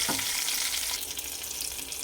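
Dal poured into a frying tempering of chillies, mustard seeds, cumin and curry leaves for pappu mamidikaya: a sharp splash at the start, then a loud, steady sizzle and bubbling close by.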